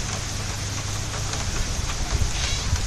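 Steady heavy rain falls outdoors near a truck, a dense continuous hiss with occasional heavier drops, no voices.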